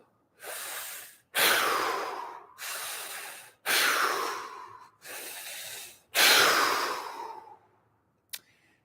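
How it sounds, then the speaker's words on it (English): Deep breaths in and out through the mouth during a fascial stretching session, six long airy breaths alternating inhale and exhale in a slow steady rhythm, close and alone. "3 big breaths in and out the mouth."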